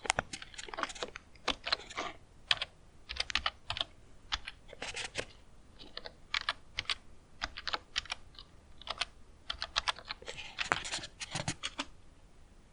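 Someone types a password on a computer keyboard while installing software on Linux Mint, producing close, irregular clusters of sharp key clicks separated by brief pauses, with no talking.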